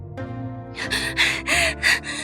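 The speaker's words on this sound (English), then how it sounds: "she starts breathing really, really heavy" Heavy, ragged gasping breaths, four or five loud intakes close up, following a steady low tone.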